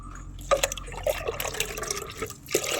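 Liquid fertilizer is poured in small amounts onto potted chilli plants, with trickling and dripping splashes in short bursts that pause and resume.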